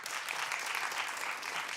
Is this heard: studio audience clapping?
yes